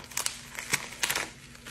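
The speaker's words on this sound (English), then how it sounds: "Open up this package, the zipper down here" Bose A30 headphone package being unzipped and opened, giving a short run of faint crinkling, rustling and scraping with soft ticks.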